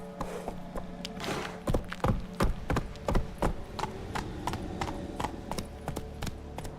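A horse gallops in The Witcher 3 video game, its hooves striking in a quick, even clip-clop rhythm that stays moderately loud and close throughout.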